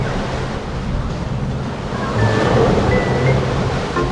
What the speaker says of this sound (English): You gotta wait for the wave to come by